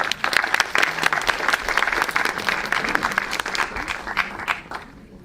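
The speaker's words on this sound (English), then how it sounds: "One more time, big round of applause for Elad." A conference audience applauds a creative director's storytelling talk, a dense burst of many hands that stays strong before thinning and fading out near the end.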